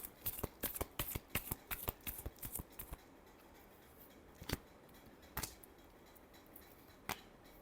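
Tarot cards are shuffled in a quick run of crisp riffling snaps, close and fairly quiet, then a few isolated taps and flicks follow after the main burst.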